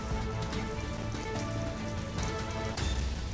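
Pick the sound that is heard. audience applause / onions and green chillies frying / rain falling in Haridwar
rain falling in Haridwar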